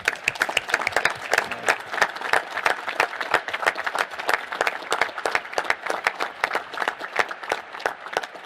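A crowd at the National Space Council meeting in Chantilly, Virginia applauds, with sparse, distinct hand claps that ring out clearly and repeat at an uneven rhythm.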